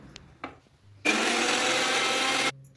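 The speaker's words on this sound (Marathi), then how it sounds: "लसण आणि मिरची मिक्सरमध्ये आपण बारीक करून घेणार आहोत" An electric kitchen mixer grinds garlic and green chillies, starting abruptly after a couple of faint clicks and whirring loudly and steadily for about a second and a half before cutting off.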